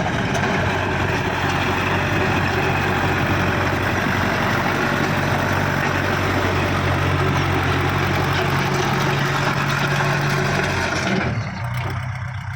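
A Kubota 50 hp farm tractor from 2018 idles steadily and loudly up close, a constant low diesel rumble that cuts off abruptly near the end.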